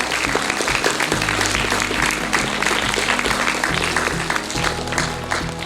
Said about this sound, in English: can you please give a round of applause for Mr.